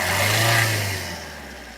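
Maruti Ertiga car engine revved, a steady mid-pitched engine drone that holds for about a second and then eases down as the revs fall, heard alone without talk.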